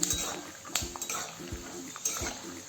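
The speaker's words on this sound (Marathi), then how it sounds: "हे सतत असं ढवळत राहायचं आहे नंतर शेंगदाणे करपतील" Peanuts are stirred in a pan over a low flame for upma, giving a series of close metallic scrapes and clinks of a spoon against the pan.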